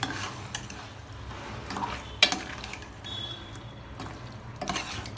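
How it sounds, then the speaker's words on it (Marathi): Chicken pieces coated in a turmeric, salt and spice paste are stirred in a pan on a village kitchen stove, giving a soft, steady sizzle with faint scraping and one sharp clink. "याला हलवून घ्यायचं"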